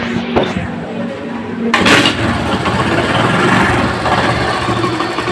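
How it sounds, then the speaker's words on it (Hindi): A motorcycle engine with a white smoke problem cranks and catches, then settles into a steady, close idle after a sharp start about two seconds in. "अभी बाइक को स्टार्ट करेंगे"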